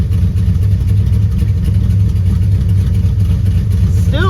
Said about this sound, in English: But it's idling very high and I can't really get it to come down.